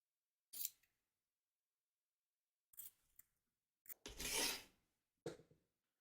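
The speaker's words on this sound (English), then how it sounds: "Trim away the excess batting from around the edge of the stitch line" Scissors snip and rasp through excess quilt batting along a stitch line, a few short quiet cuts and one longer drawn-out cut, close by in a silent room.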